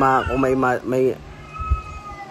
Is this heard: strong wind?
no